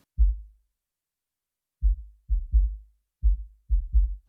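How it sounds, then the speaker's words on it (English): Deep sub kick drum from a music production, played dry and alone in short booming hits, a single thump then a few irregular groups of two and three, with silence between them. "this is the sub kick out of the box"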